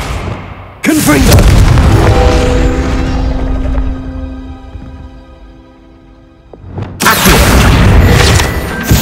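Confringo explosive spell blasts in the video game Hogwarts Legacy: a loud, sudden boom with a long ringing tail that fades out, then a second heavy blast hits near the end.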